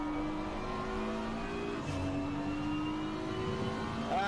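A Porsche in a racing video game sweeps past with a humming, revving engine note whose pitch drops partway through, then settles into a steady whir. No one talks over it.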